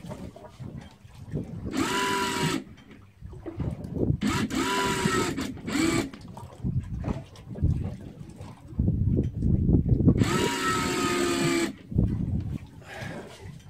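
Electric fishing reel whirring in bursts as it winds in a heavy fish offshore near Toulon, the motor whine starting and stopping several times over boat and water noise.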